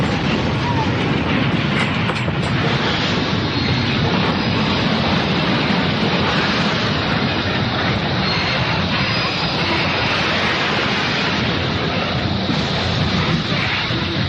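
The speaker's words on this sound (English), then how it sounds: "my God, the train's going to stop!" A train braking and crashing in a radio drama, heard as a loud, continuous roar of grinding, rumbling noise that stays steady and dense for the whole stretch.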